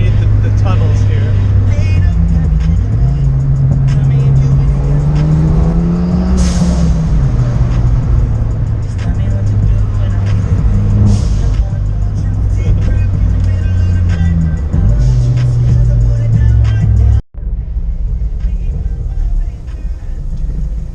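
A modified car makes a flyby under road tunnels, its engine revving loudly through several rising and falling pitch sweeps with echoing reverberation, close and dominant throughout, then abruptly cutting out near the end.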